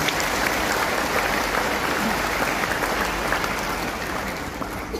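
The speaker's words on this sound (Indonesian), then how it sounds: "mari kita beri apresiasi dan aplaus untuk para wisudawan." An audience at a university graduation ceremony applauds the graduates, a steady, dense clapping that carries on at an even level throughout and fades a little at the end.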